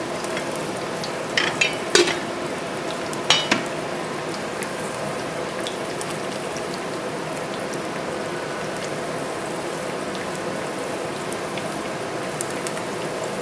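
Garlic and vegetables brown in a frying pan, giving a steady close sizzle with a few brief utensil clatters near the start, and no voices.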